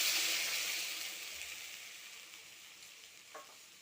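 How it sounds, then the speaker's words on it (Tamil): Cooked lentils are poured into sautéed tomatoes in a hot pan, setting off a bright sizzling hiss that starts strong and gradually fades as the frying settles, with no talking. "வதங்கியதும் வேக வைத்த பருப்பை ஊற்றுவோம்."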